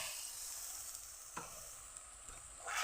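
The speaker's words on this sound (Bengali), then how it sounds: "নেড়ে চেড়ে নেব ভালো করে" Spice masala with chui jhal and a splash of water is stirred in a pan, giving a continuous bright sizzling hiss with a couple of soft scrapes, close and fairly quiet, no voices.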